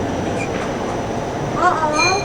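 Rumbling rail noise of a passing train heard from a window during a 1993 European trip, steady and fairly close, with a brief squealing rise near the end and people chatting over it.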